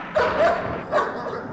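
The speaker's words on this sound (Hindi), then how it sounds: "अरे कुत्ते क्यों भौंक रहे हैं?" Dogs bark in a noisy indoor setting, two clear bursts of barking, the first doubled and the second single, over a busy background din.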